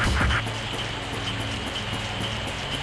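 Steady rainfall in the video game Grandia HD Remaster makes a continuous dense patter with a brief louder thump at the start, with no talk.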